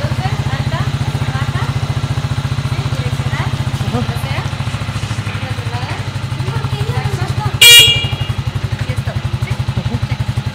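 Motorcycle engine idling at a motorcycle dealership delivery area, a steady close rhythmic thumping throb with a brief sharp clatter midway, heard under people talking.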